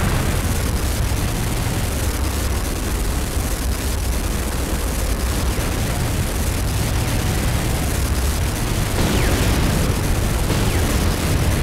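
A building explosion in Command & Conquer: Renegade, a dense, loud, sustained roar of blast noise and rumbling debris that fills the whole stretch without pause, with no speech.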